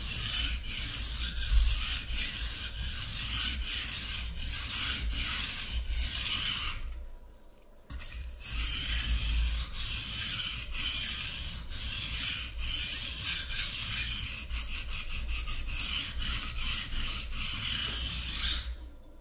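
A knife blade is drawn across a sharpening stone in steady, close rasping strokes that run almost continuously, with one short pause midway.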